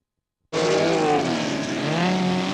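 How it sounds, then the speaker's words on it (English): Porsche rallycross car racing at Lydden Hill in the 1981 British Rallycross Championship superfinal: after half a second of silence, a loud, close engine roar bursts in and holds at high revs, its pitch rising and falling as it passes. "John Greasley, who is now on his third lap, making this super final his own"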